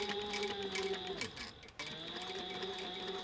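A sewing machine stitches fabric for bar stool upholstery, running steadily with a fast mechanical chatter that briefly slows and dips midway before resuming, close and moderately loud with no voices.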